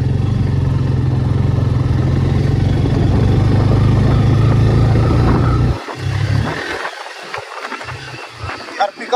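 A Bajaj Pulsar N160 motorcycle being ridden and accelerating, with a loud, steady engine-and-wind rumble for about six seconds that then drops away as voices talk.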